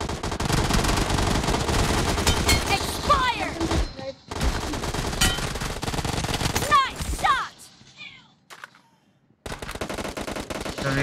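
Gunfire in the mobile battle-royale game BGMI: loud sustained automatic bursts in two long runs, broken by brief pauses and a quiet gap near the end, with rapid fire resuming.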